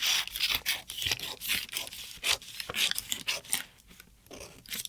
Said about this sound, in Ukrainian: Я ріжу по цій лінії і ось по цій.